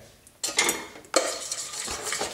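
Honey stirred into a warm orange marmalade dipping sauce in a pan, with two bursts of spoon-on-pan stirring and scraping, close and moderately loud, with quiet gaps between.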